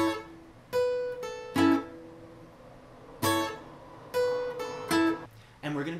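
Clean electric or acoustic guitar plays the third and fourth parts of a song's chord melody intro riff, with short plucked chords and single notes cut short in a bouncy, rhythmic pattern with brief gaps between phrases.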